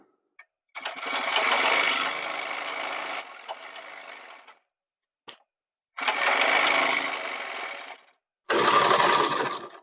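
Sewing machine stitching a gents shirt, with two long steady runs of rapid needle chatter broken by short pauses, one faint tap, and a final short burst, close and loud.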